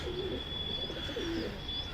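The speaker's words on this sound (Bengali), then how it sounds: "এটা একটা নর কবুতর" A male racing pigeon cooing softly after landing, a couple of low throaty coos over faint outdoor background hiss, fairly distant and quiet.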